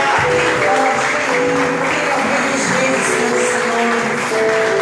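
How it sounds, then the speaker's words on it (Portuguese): A church congregation applauds at a family worship service, a steady wash of clapping that fills the room, with sustained musical tones running beneath it. "Vamos aplaudir o Senhor porque Ele merece."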